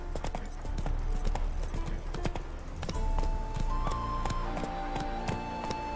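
Geralt's horse Roach galloping in The Witcher 3, a steady run of close, loud hoof clip-clops over game music and ambient tones, with no talking.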